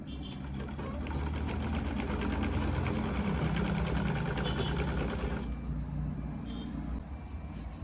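A sewing machine runs through turban fabric in a fast, continuous mechanical whir for about five seconds, then stops, leaving a quieter background with a faint click or two.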